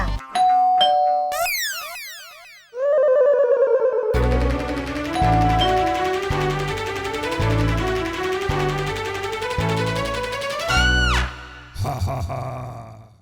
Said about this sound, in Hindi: मुझे लगता है दरवाजे की घंटी बजेगी और मेरा दूल्हा आएगा।